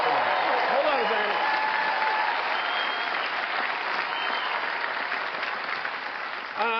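Audience at the 96th Academy Awards ceremony applauding, a dense, steady wash of clapping from a large crowd that holds throughout and fades slightly toward the end.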